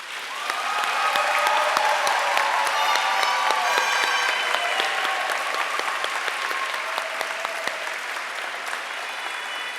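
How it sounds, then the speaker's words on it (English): A crowd applauds honorees and graduates at a high school senior awards program, sustained dense clapping that fills the room for several seconds and slowly tapers, with a few faint voices mixed in. "can we give them a real round of applause?"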